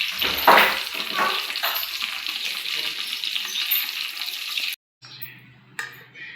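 Ghee fries in a pan with a steady, fairly loud sizzling hiss that cuts off abruptly, then returns fainter with a low hum underneath.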